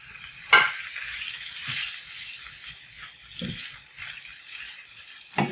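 Meat for aloo gosht frying in a pot, a soft continuous sizzle with a few louder clattering stirs spaced through it.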